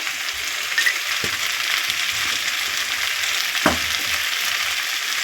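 Fish curry frying in hot oil as turmeric powder goes in, giving a steady, close, even sizzle with a couple of soft stirring knocks and no talking.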